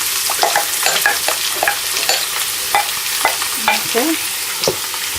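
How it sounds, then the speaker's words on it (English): Onions fry in hot oil in a pan for a lamb curry, giving a steady close sizzle broken by frequent stirring scrapes and clicks, with one short spoken word. "so now we add the onions to the oil"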